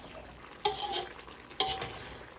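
A spatula scrapes twice through chop suey in a pan, each quiet stroke clear against a faint background hiss.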